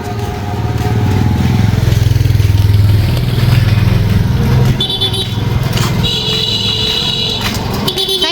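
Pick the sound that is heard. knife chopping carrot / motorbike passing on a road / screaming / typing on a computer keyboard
motorbike passing on a road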